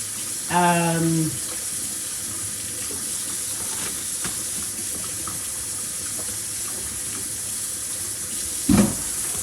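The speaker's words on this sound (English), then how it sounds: "So, we're just going to give them a little wash." Beets are rinsed under a running kitchen tap, water hissing steadily with a brief tone and a splash near the end.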